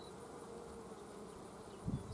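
A honey bee buzzes faintly and continuously at close range against a quiet hum, with a short soft thump near the end.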